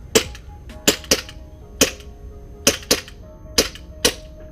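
A Tokyo Marui Glock 19 gas airsoft pistol fires about nine sharp, snappy shots at an uneven pace, each a crisp close crack with a short tail.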